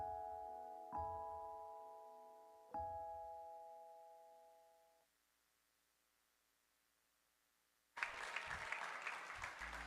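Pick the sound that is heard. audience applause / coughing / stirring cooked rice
audience applause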